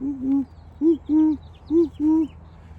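Owl near its nest gives five low, clear hoots in an uneven rhythm, close and distinct against a quiet outdoor background.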